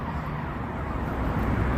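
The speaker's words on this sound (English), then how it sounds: "I heard those sirens coming there." A fire marshal's vehicle rushes along a Chicago street on Wacker Drive, making a loud, dense roar of traffic and siren noise that holds steady and swells slightly toward the end.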